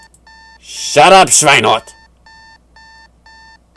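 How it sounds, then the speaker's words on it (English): Electronic alarm clock beeping in the video game Doki Doki Relapse, a steady repeating pulse of short beeps that keeps going under a brief, loud burst of shouted speech. "I hit my alarm clock with so much force that it explodes"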